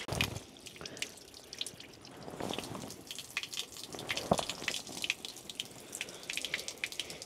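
Water from a small waterfall at a Japanese temple spring drips and splashes in quick irregular drops, close and fairly quiet, with a soft watery wash underneath.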